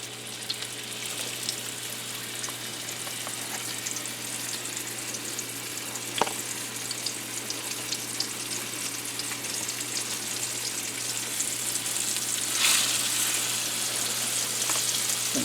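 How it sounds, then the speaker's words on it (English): Flour-dusted turkey breast steaks sizzle steadily in hot oil, a constant bright hiss with occasional spatters and pops, close up and uninterrupted. "And hear the sizzle. Don't you love that sound?"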